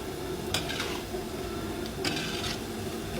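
A frying dish is stirred in a pan, with two or three sharp metallic scrapes and clinks of the spoon over a low, steady background hum.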